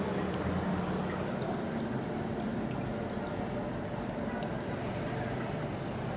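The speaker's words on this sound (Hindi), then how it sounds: "मशीन अब पानी निकाल रही है।" A Haier automatic washing machine, model HWM90-1789, drains its water in a steady, dense rushing and gurgling flow that stays constant and fairly loud throughout.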